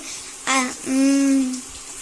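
Water runs from a tap as tomatoes are washed for a radish chutney. Two short splashing bursts sound close by, the second one longer.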